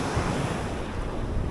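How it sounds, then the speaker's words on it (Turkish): Rough, choppy sea waves wash against a campsite shore in a constant, dense roar, with gusting wind buffeting the microphone throughout. "Deniz çok dalgalı."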